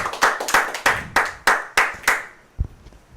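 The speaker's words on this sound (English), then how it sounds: "One more round of applause." Scattered clapping from an audience comes as a handful of sharp, distinct claps spaced roughly evenly, close and fairly loud, ending with a final soft thump.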